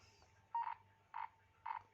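A Nokia 6016i CDMA phone's SMS message tone, a frog croak repeated three times in short evenly spaced bursts, clear and close against a quiet background.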